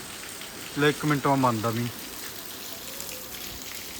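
Rain keeps falling on a car as a soft, steady hiss beneath a man's brief nearby speech, then continues alone once he stops.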